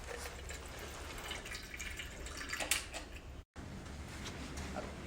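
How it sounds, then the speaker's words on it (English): Water draining from the outlet hole of a Pico laser beauty machine through an inserted spare part, a faint steady trickle with light drips, and a brief cut near the end. "Then the water will come out."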